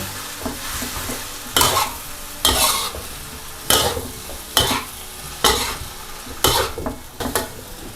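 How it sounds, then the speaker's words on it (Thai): Glass noodles stir-fried in a pan for a vegetarian dish. A steady sizzle runs throughout, broken by regular scraping strokes from a spatula about once a second. The sound is close and there is no speech. "แล้วก็เอามาผัดได้เลย"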